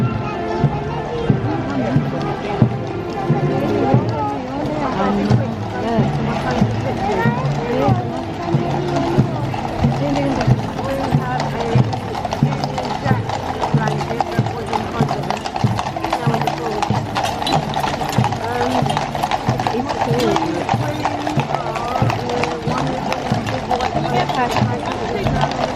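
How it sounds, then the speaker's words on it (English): The Household Cavalry horses move together at a ceremonial parade, their hooves clip-clopping in a dense, continuous rhythm on the road. Crowd chatter and voices run underneath throughout. "All the horses at the same time. This is all the household cavalry."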